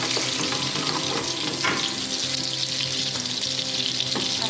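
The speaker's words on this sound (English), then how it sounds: "I'm adding my red pepper." Red pepper sizzles in melted butter in a pan for Turkish eggs, a loud, dense, continuous frying hiss heard close up without talk.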